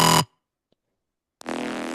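A Reese bass synth from a melodic dubstep track, a thick buzzing tone that cuts off abruptly, followed by about a second of silence, then the same dense buzzing bass returning loudly.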